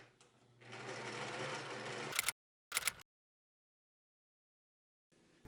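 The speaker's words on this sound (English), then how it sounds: "I continued sewing around both sleeves and then the body of the shirt" A sewing machine runs steadily for about two seconds while sewing shirt seams on a refashioned men's shirt, followed by two short bursts of stitching and a brief restart at the end, close and clear with no talking.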